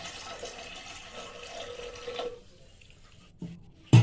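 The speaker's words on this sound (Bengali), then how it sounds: "কুকারে জল দিয়ে দিলাম, একটু জলটা গরম হোক।" Water poured into a pressure cooker for boiling soaked chana dal, a steady splashing stream that stops abruptly, followed by a couple of sharp metallic knocks.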